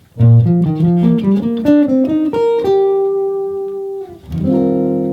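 Clear plucked guitar notes run through a quick lick and settle on a held, ringing third that fades, followed by a fresh strummed chord.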